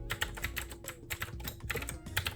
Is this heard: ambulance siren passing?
no